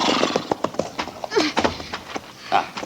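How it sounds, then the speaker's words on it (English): Horse in an old-time radio drama neighs and whinnies, with hooves clip-clopping, faint, under voices. "Here. Hold my horse."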